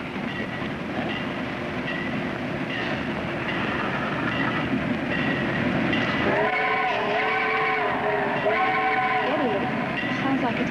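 A distant train passing on a railroad at night gives off a steady rolling rumble, and from about the midpoint onward it is joined by sustained whistle-like tones.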